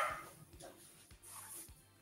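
A dog barks in a few short, sharp bursts spread over two seconds, moderately close, against a faint background of room noise.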